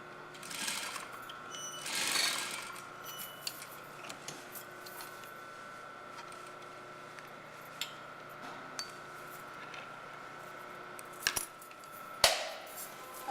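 A sewing machine stitches along the facing edge of a blouse, a faint, steady hum broken by scattered small clicks and clinks in a quiet room.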